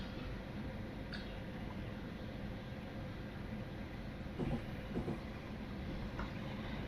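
A Class 450 electric commuter train runs on the Bournemouth–Southampton line in Train Simulator, giving a steady interior rumble and hum with a few faint clicks and bumps and no voices.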